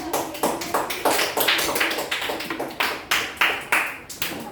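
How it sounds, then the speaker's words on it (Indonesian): Classroom applause for a student group, many hands clapping in steady overlapping bursts, moderately close with a roomy echo and no talking. "Kita beri aplaus."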